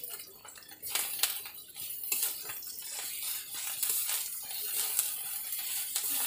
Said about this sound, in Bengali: রসুনটাও একটু ভেজে নেব যাতে গন্ধ না ছাড়ে।